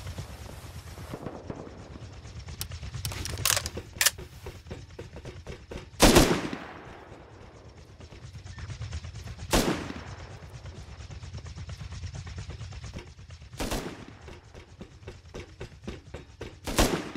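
Bursts of automatic gunfire from the video game Rust at a large oil rig, with rapid rattling shots, several loud close blasts and quieter distant shooting over a steady low background rumble.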